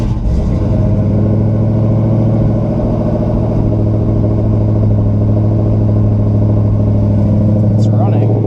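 A 1969 Buick Special Deluxe engine runs at a steady, loud, close idle with an even low throb throughout, while a voice talks over it.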